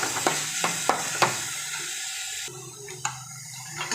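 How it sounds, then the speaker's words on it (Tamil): An egg stuffing with carrot and coriander is sautéed in a pan, with a soft sizzle under a series of sharp clacks of a spoon stirring against the pan, then a lighter frying hiss. "இப்போ இது ஒரு 2 நிமிஷம் நல்லா வதக்கிக்கலாம்"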